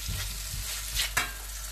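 Sweet and sour sauce with soy sauce cooking in a pan, a soft bubbling sizzle with brief stirring scrapes, close and quiet.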